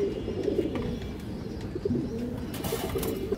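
Pigeons coo on a farm, a steady close chorus of low throaty calls that overlaps without pause and carries no talking.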